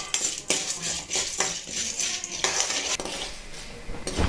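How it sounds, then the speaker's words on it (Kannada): Chana dal and urad dal stirred in hot oil in a pan, metal spoon scraping and clinking against the vessel in repeated strokes, close and fairly loud with a faint sizzle beneath. "ಎಣ್ಣೆ ಕಾದ್ಮೇಲೆ ನಂತರ ಕಡಲೆಬೇಳೆ, ಉದ್ದಿನಬೇಳೆ ಎರಡು ಹಾಕಿ ಚೆನ್ನಾಗಿ ಹುರಿಬೇಕು."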